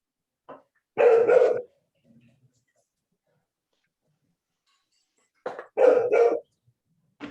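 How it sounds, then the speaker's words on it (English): A hound dog barks nearby in two short clusters of sharp barks separated by several seconds of quiet. "A hound dog."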